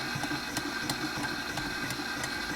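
Electric mixer whirring egg substitute and salt for vegan fudge brownies, a steady close motor drone with faint rhythmic beater ticks throughout, no talking.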